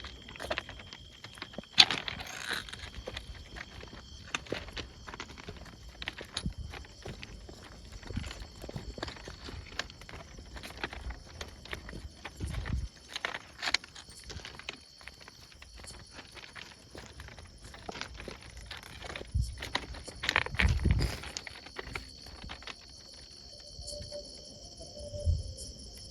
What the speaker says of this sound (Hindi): जैसे पैरों की आवाज़ आ रही थी, पैरों की आवाज़।